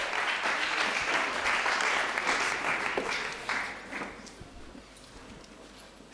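Audience applause at an evening congress closing session, a dense sustained clapping crowd that holds steady for several seconds and then tapers off toward the end.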